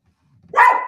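Roscoe the dog lets out a single loud, close bark after a moment of near silence, a sharp burst that trails off briefly.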